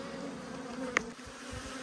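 Bees hum around the outer frame of a white beehive, a soft continuous buzz lasting under two seconds with one brief sharp click near the middle.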